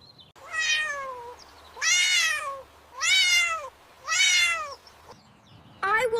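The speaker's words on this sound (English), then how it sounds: "A little cat is stuck on the branch." A small kitten stuck on a high tree branch meows repeatedly, five clear, plaintive cries spaced about a second apart, close and distinct over a quiet background.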